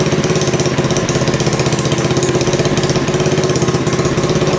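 A dirt bike engine idles close by at a lowered idle speed, a loud, even, rapid putter that holds steady without revving.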